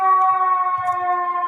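An escort vehicle's siren sounds loud and close as a steady, sustained tone, with faint background noise underneath.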